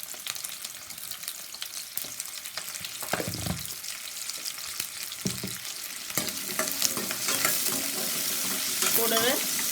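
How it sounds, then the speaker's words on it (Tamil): Onions sauté in a pan with a little salt as the base for a Tamil anchovy (nethili) fish gravy, stirred continuously. A constant crackling sizzle runs throughout, with utensil scrapes growing slightly louder and busier toward the end. "நல்லா பச்சை ஸ்மெல் போகிற மாதிரி நல்லா வதக்கிக்கணும் வெங்காயத்தை."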